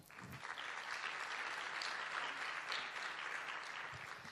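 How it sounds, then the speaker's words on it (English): A conference audience claps steadily for a panel of speakers, a dense sustained applause in a large hall that holds at an even level before easing off at the end. "Ladies and gentlemen, another round of applause for our panelists."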